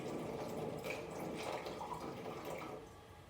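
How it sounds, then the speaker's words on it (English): Tap water runs into a balloon stretched over the mouth of a plastic jug, a continuous gurgling trickle that stays close and steady before easing slightly at the end. "I can start to fill the balloon up."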